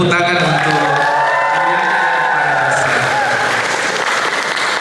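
Applause and cheering from an audience at a Valentine's church youth event honoring mothers, loud and sustained throughout, with a musical tone and voices mixed in over the clapping.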